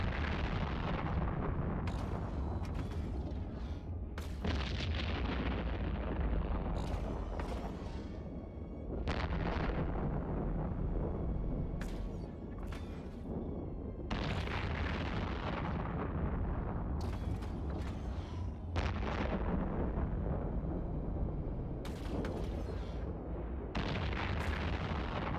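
Missile impacts and explosions from attacking cruisers in EVE Online rumble continuously, with loud, dense booms and bursts layered over one another throughout.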